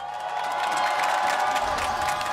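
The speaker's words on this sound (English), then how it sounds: "All right, crowd, I want to hear you scream, do you think Rogue can make the comeback?" A large esports arena crowd at a League of Legends championship final screams and cheers loudly and continuously, a dense roar of many voices filling the space without pause.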